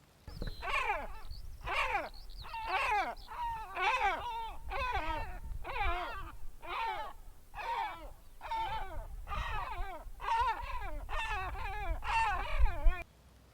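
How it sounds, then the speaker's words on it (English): A great black-backed gull gives a long series of deep, harsh calls, evenly spaced about once a second, fairly close, by the sea shore. "Along the sea strand you'll often see another much larger gull with a black back"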